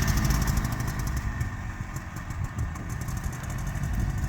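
A 2002 Polaris Trail Blazer snowmobile engine runs after a rebuild, a loud, steady two-stroke drone with a rough, pulsing buzz, close by.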